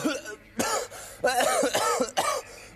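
Several harsh coughs in a row, close and loud, with short pauses between bursts.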